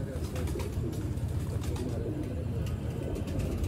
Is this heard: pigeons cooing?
yes